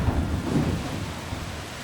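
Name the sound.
thunder and rain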